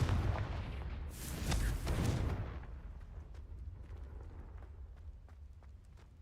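A Confringo spell blast from the video game Hogwarts Legacy: a loud, broad explosive burst over the first two seconds, fading into a lingering rumble with faint scattered crackles. No voices are heard.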